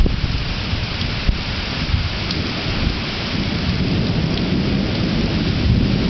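Thunder rumbles heavily through steady, loud rain during a massive pre-dawn electrical storm with continuous lightning, a dense wash of downpour that covers the whole stretch with a few sharper crackles, and no voices.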